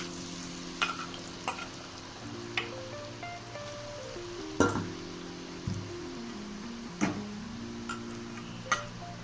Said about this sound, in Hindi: तो चलिए अब दूसरे राउंड का भी फ्राई होने के लिए डाल देते हैं